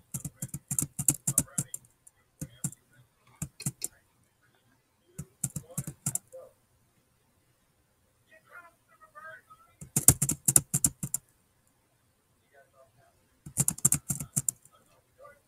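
Bursts of rapid clattering keystrokes on computer keyboards during an online game, fast dense runs of taps separated by pauses, close and fairly quiet, with faint scattered clicks between bursts.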